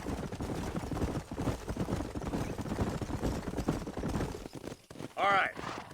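Horses' hooves clip-clop at a steady walking rhythm in the Red Dead Redemption video game, while someone talks over them. A short whinny rises near the end.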